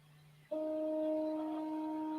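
A steady mechanical drone with a strong tonal hum from a 3D printer with dry bearings starts abruptly after a quieter low tone, holding evenly like a machine running nearby.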